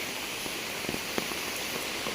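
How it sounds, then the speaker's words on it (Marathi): Steady rain hisses evenly on a surface nearby at a stream in the Konkan, with a few scattered heavier drops tapping through the constant wash. "पाऊस आला बघा, पावसाला कळालं आपण व्हाळात आलो।"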